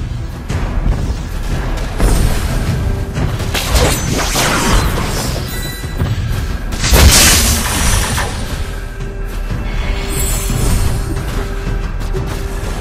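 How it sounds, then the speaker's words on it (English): Turret destruction in the Mobile Legends Bang Bang video game: loud booming blasts and crashing impacts in a dense, continuous stream, with a few sharper bursts standing out around the middle and near the end. "Your team destroyed a turret!"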